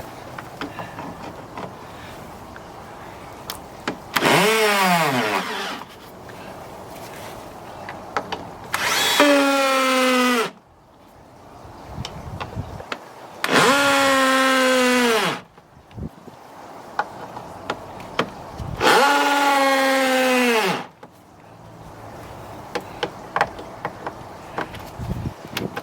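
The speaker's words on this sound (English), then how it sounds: "If you're finding your drill is a little bit on the weak side" A cordless drill drives into wooden posts for a koi pond build in four separate loud bursts, each pitching down as the motor strains under load, with quiet pauses and light clicks between.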